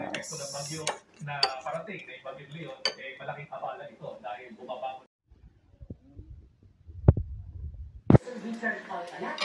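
Eggplant is mixed in a dish, with a couple of sharp utensil clinks standing out after a stretch of talking, then more speech resumes.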